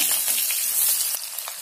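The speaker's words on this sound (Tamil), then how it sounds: "இதோட சின்ன வெங்காயம் சேர்த்து நல்லா வதக்கிக்கோங்க" Shallots and curry leaves sautéing in hot oil give a steady, close sizzle and frying hiss with faint stirring scrapes, and no voices.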